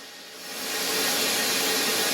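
An electric mixer on high whirs into chocolate lava cake batter, ramping up from a softer start to a steady, bright, close hiss of motor and beaters.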